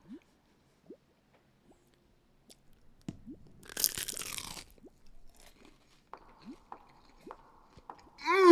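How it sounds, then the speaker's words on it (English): Crunchy Jollibee fried food bitten and chewed up close, a loud burst of crisp crunching followed by softer wet chewing and a few scattered mouth clicks, with a closing noise at the end. "Y'all have to hear the crunch on this."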